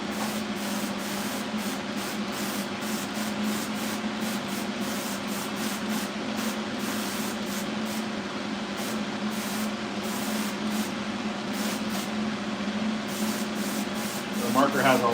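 Paintball marker parts, bead-blasted beforehand, are sprayed with a tack coat of paint: a continuous close hiss of spray runs steadily and without breaks over a faint low hum.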